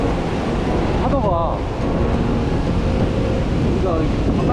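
Surf rolls in at Daecheon beach in Korea as a loud, continuous roar of breaking waves, heavily mixed with wind buffeting the microphone, while brief voice fragments come and go.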